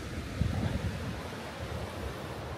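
Water running over the intake overflow of a modular pico-hydro power plant in a Nepali village, a steady broadband rushing wash, moderately close, with slight surges and no voices.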